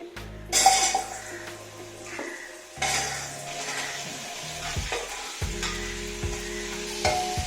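Sliced mushrooms hitting hot ghee for a veg biryani, a soft sizzle with stirring and scraping of a spoon against the pot, punctuated by a few clanks, moderately quiet and continuous.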